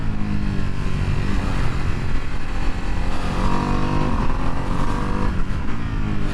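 A 2025 Ducati Streetfighter V2S, 120 horsepower, accelerates on the road with a gruff, pulsing engine note climbing through revs, loud and close alongside wind rush, with brief shifts as it pulls.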